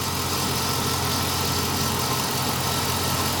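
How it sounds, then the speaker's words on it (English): A Chevy engine cranks and runs during a battery load test, a continuous, dense mechanical drone with steady vibration, close and loud without pause. "Load test. Cranking load."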